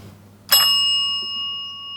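A quiz buzzer bell is struck once, giving a bright metallic ding that rings on with a clear, slowly fading tone over a quiet background.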